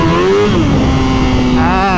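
A built-engine 2022 Suzuki Hayabusa motorcycle pulls hard in second gear, its loud, close engine note rising steadily, dipping briefly, then climbing again over about two seconds.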